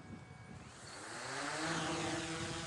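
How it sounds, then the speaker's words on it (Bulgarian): A GPS-controlled camera drone lifts off and hovers, its propeller whine rising into a steady, fairly loud drone with tonal harmonics, heard close by with no talking. "И дрона ни е готов."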